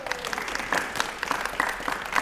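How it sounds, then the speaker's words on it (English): Studio audience on an antiques game show gives brief, fairly soft applause, a steady patter of clapping hands lasting a couple of seconds. "Give him a round of applause."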